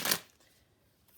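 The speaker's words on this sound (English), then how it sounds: "Just going to shuffle a few more times." A single quick riffle of cards at the very start, then near silence with only faint room noise.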